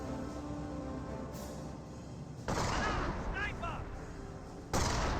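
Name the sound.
gunfire in the video game Company of Heroes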